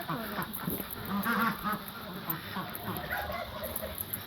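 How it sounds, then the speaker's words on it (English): Muscovy ducks calling at a farm colony, a busy mix of soft hisses, honks and fowl chatter, fairly near and continuous, with a brief word of speech. "These are the Muscovies."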